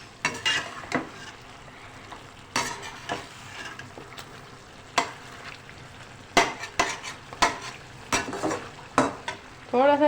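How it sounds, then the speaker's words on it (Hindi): Ginger chicken stir-fries in a karahi with honey and green chillies, a low steady sizzle punctuated by sharp, irregular scrapes and clanks of a spatula against the pan. "अब हनी और हरी मिर्चें जो है ये सब डाल के अब अभी इसकी हम भुनाई करेंगे"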